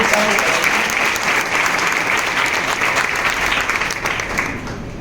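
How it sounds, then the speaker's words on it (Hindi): Students clapping together in a hall during a motivational talk, a sustained, fairly loud burst of applause that tapers slightly toward the end. "तो जो समझ में आता है तो ताली बजा करके हमारे लिए"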